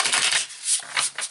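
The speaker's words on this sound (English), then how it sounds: "I'm just going to shuffle these" Tarot cards being shuffled by hand, a continuous papery riffling and rubbing that swells in bursts, close and fairly loud, with no talk.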